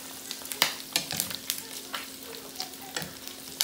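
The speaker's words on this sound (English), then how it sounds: "frying your salt pork, guys, be really, really careful. Because you're going to have grease popping over everywhere" Salt pork frying in hot grease, giving a steady sizzle broken by frequent sharp, irregular pops and crackles, close up and with no talking.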